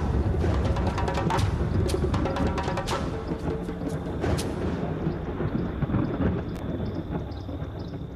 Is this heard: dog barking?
no